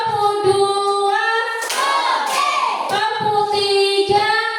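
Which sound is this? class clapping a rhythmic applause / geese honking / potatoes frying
class clapping a rhythmic applause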